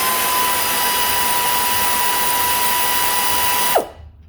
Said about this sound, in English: We're gonna remove the bracket, 2 bolts in the back.